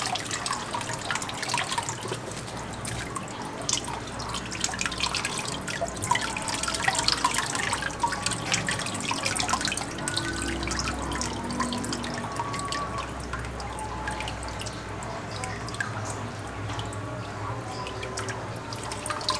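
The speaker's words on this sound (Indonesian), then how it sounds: "Kita buang airnya." Water drains and drips off a mass of silk worms (tubifex) after separating them from mud, a continuous close patter of splashing and dripping liquid without talking.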